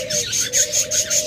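Lovebirds kept for sale chirp in a rapid, regular series of high, bright notes, about six pulses in quick succession, close and loud.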